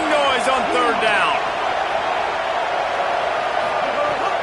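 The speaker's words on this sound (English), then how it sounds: "This dog crowd is off the leash, and they are coming after them, bringing noise on third down." A packed Georgia football stadium crowd roars through a third down, a loud, steady wall of noise with a few whoops and whistles near the start.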